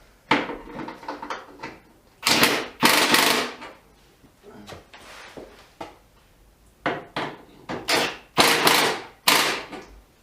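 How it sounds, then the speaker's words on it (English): Nuts being tightened on the mount of a DeWalt DW745 table saw on a DE7400 stand, a series of sharp metallic clicks and clunks in irregular bursts with short pauses, close and fairly loud. "people like seeing nuts getting tightened up and things"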